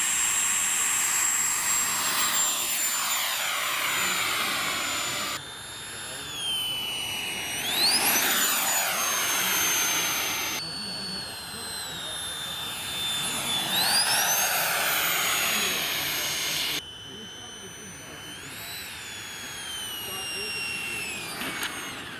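RC Sea Harrier model jet on approach with its nozzles angled down: a continuous turbine whine and roar whose pitch sweeps up and down as it passes, fairly loud and sustained, with no talking.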